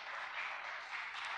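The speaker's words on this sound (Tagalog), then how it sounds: "Palakpakan po natin ang Panginoon." Church congregation applauding during a Sunday worship service, a brief, even wash of clapping at low level with no voices over it.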